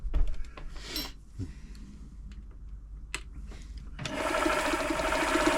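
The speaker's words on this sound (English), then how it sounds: "This runs lovely. Quite impressive for a machine of its age to be so smooth." An Elna Supermatic TSP sewing machine, freshly oiled, runs in bursts, first with a few taps and short stitching runs, then settling into a steady, smooth whir that grows louder toward the end.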